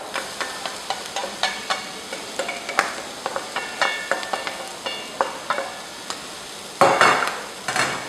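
Fried rice with crab stick and sausage sizzles steadily in a pan, punctuated by frequent scraping and clinking stirs of a utensil against the metal, with a louder burst of hissing near the end.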